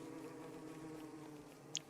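Swarming bees buzz steadily in Don't Starve Together, a continuous droning hum with a brief sharp blip near the end.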